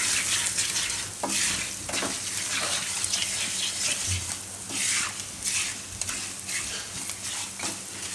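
Tandoori Maggi noodles stirred in a hot pan, a steady sizzle with repeated scraping strokes of a spoon running throughout at close range, no voices.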